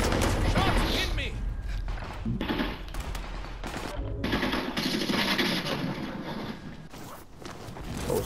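Gunfire in the Call of Duty: Modern Warfare video game, with dense bursts of automatic shots and impacts hitting the player, loud and continuous over the whole stretch alongside busy game effects.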